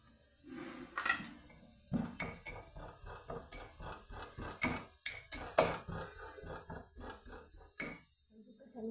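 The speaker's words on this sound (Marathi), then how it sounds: "कसं मी केलंय असा ठेचून घ्यायचा" Ingredients for a dry capsicum curry are crushed by hand, giving a series of sharp, irregular pounding knocks and clinks, close and moderately loud, with quiet pauses in between.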